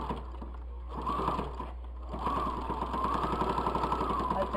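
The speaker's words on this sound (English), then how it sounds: "We're going to sew on top." A sewing machine stitches across the top of a fabric bowl cosy, its steady rapid needle clatter running close and continuous, pausing briefly near the two-second mark before resuming at an even pace.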